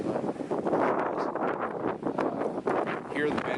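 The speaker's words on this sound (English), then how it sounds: "Now the wind's going to pick up, so you're going to probably have a hard time hearing me." Strong wind on a hiking trail roars and buffets the microphone in uneven gusts, loud and close, with a voice partly buried beneath it.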